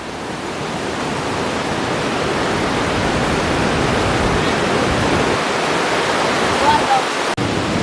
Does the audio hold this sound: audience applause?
no